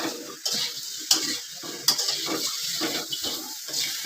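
Spices and meat fry in a pan with salt, giving a continuous sizzle over brisk stirring with frequent scrapes and clinks of a utensil against the metal.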